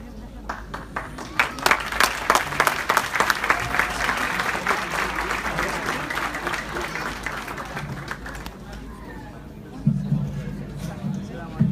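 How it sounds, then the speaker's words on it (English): An audience at a religious celebration marking the birth of Imam al-Mahdi at a centre in Washington, D.C. applauds after a recitation, with dense, steady clapping for about eight seconds before it fades and a voice speaks over the room. "Can we give them another round of applause, please?"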